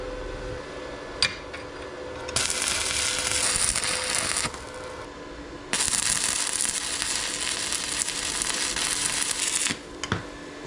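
A budget Amazon welder runs on 3/8 inch steel in two sustained stretches of loud, steady crackling hiss, with quieter gaps and a few sharp clicks between them.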